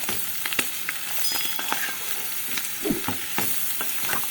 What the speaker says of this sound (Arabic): وهقلب كل المكونات دي مع بعض